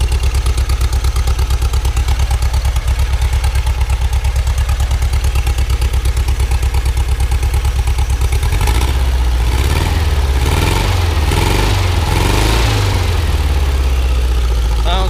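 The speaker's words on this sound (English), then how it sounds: "It's got a fresh rebuilt engine." A 1974 Volkswagen Thing Type 181 with a freshly rebuilt 1600 cc air-cooled flat-four engine idles close by with a loud, even chugging, then the engine note deepens and wavers as it is revved.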